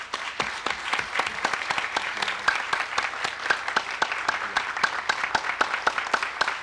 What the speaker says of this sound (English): Could you join me in a round of applause for our panel?